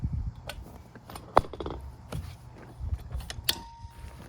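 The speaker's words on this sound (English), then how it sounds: "folding the tent back up on the platform" Cybertruck Basecamp tent being folded and packed onto its truck-bed platform: scattered creaks, clicks and soft fabric rustles with a few sharper knocks, close and moderately quiet, no talking.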